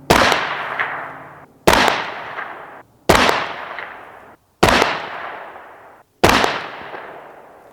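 Five loud rifle shots of AAC 77-grain 5.56 Matchking ammunition fire at an even pace about one and a half seconds apart, each a sharp crack with a decaying ring.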